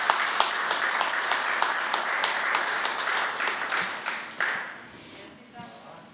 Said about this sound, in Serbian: Molim jedan aplauz za njega.